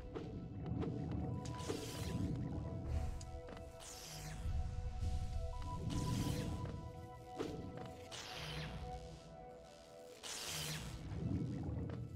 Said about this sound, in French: les explosions ont fait super mal par contre